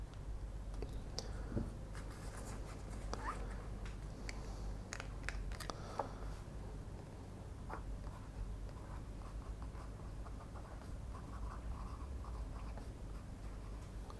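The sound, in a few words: fountain pen inked with Waterman Mysterious Blue writing on paper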